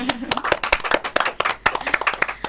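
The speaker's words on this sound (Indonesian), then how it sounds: "kita kasih aplaus dulu untuk Kakak Dina ini" An audience claps at a talk show event featuring a young PAN legislative candidate, brisk scattered handclaps from a small crowd nearby, loud and uneven, with a voice speaking over part of it.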